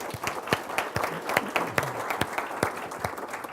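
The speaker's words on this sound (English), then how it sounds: "So let's give them all a round of applause." A room full of people applauds a company's business partners with brisk, sustained clapping, individual sharp claps standing out close by within the general crowd applause.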